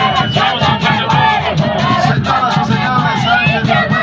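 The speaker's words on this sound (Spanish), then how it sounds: "Sánchez y Cifuentes, recibimos un fuerte aplauso." A large crowd at an Inti Raymi festival cheers and shouts loudly and continuously, with whoops rising over a dense wall of noise.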